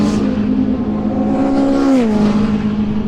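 Rebuilt Porsche 911 race car on a race track, a loud high-pitched engine note that climbs and then drops sharply as the car passes close by, with no talking.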